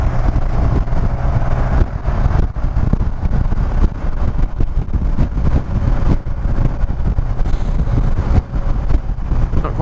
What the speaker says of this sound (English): Windy this morning as it has been